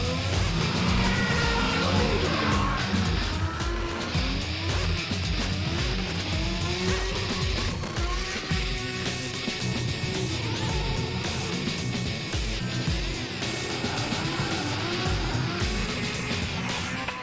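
Nissan Skyline R32 drift car at a drifting competition, engine roaring continuously with shifting revs and tyre squeal, loud and sustained throughout.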